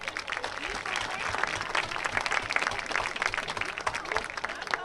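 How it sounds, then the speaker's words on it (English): Dense crowd applause fills a high school homecoming event at the Rivercrest Colts vs. Westside Warriors game, many hands clapping in a continuous, loud wash with faint voices mixed in. "Please give them all a round of applause."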